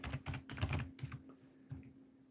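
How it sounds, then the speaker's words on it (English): Quiet bursts of computer keyboard typing, quick clustered keystrokes with brief gaps and a steady low electrical hum beneath, close and soft, no speech. "Which means typing the whole damn address again."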